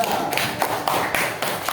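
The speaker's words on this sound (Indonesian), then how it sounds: "Tepuk tangan kelompok 2." A class of sixth-grade primary school students claps together for a fellow student group, a quick run of short, sharp claps coming in a loose steady rhythm at moderate volume.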